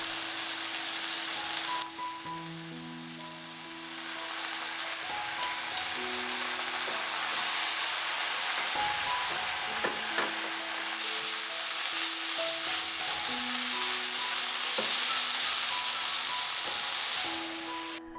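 Mushrooms fry in oil in a pan, a loud, continuous close sizzle with a hissing, rain-like texture that holds steady throughout, while soft background music plays and no one speaks.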